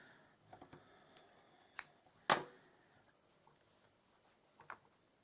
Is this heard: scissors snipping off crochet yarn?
yes